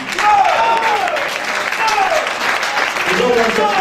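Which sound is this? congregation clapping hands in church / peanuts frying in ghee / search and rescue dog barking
congregation clapping hands in church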